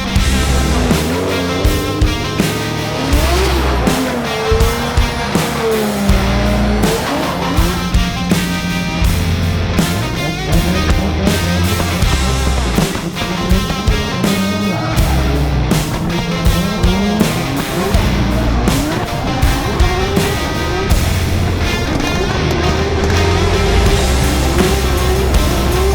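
Drift cars battle in a drift championship round, engines roaring loud and continuous with rising and falling revs throughout, no talking over it.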